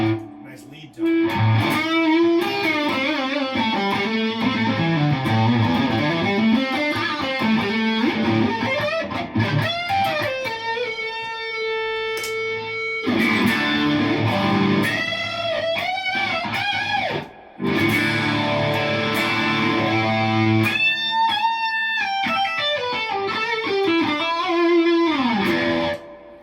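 Electric guitar played through stacked overdrive pedals into a Fender amp, with driven melodic lead phrases and sustained notes running continuously, broken by a couple of brief gaps.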